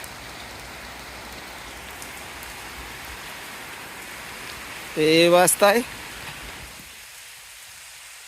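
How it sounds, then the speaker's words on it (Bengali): Steady rain falls outdoors in a village, a constant close hiss of drops on surfaces, briefly interrupted by a short spoken phrase before the rain noise quietens near the end. "এ খালি ক্যামেরায় সমানে বৃষ্টি পড়তেছে"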